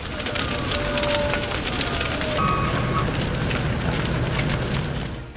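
A fire at a former club building on Mission Central Road, San Diego, burns with dense crackling and popping, steady and fairly loud, with faint siren-like tones briefly rising above the roar.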